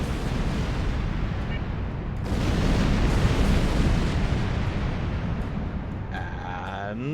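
Starship weapons fire in Star Trek Online comes as a continuous loud, rumbling barrage of blasts and booms, swelling midway and close up, with brief talk at the start and a warbling electronic tone near the end.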